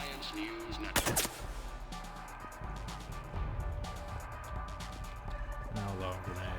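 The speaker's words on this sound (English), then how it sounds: "Gunfire on the Silver Sun Strip." Gunfire in the video game Mass Effect 3 erupts in rapid bursts, a loud volley near the one-second mark over a dense, continuous battle ambience with rumbling effects.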